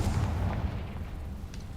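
A Confringo blast spell goes off in Hogwarts Legacy, a dense, rumbling explosion with heavy low-end boom that stays loud and rolling for the whole moment, with no talking over it.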